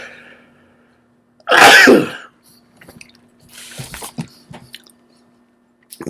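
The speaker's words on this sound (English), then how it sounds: "that sneeze was coming for a while" One loud, close sneeze bursts out after a quiet moment, followed by soft sniffing and small mouth sounds.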